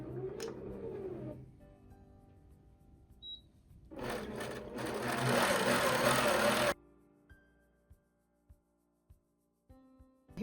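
An APQS longarm quilting machine with QuiltPath starts with a few separate stitches, then runs in a loud continuous whirring burst of several seconds before stopping. A string of evenly spaced sharp ticks and clicks follows.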